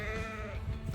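A sheep bleats once in a long, wavering, nasal call, close and clear over faint outdoor background noise.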